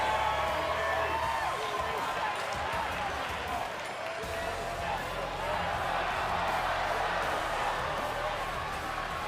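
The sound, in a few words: crowd cheering in WWE 2K20 video game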